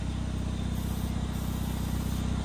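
An aerosol can of spray paint releasing a steady, close, continuous hiss over a low rumbling engine hum, with no talking.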